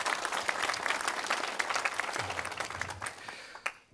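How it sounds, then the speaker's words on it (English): An audience at the Hackerhotel 2020 hacker conference claps in a dense round of applause that gradually thins out and fades toward the end, with a few isolated claps remaining. "And big applause for these people"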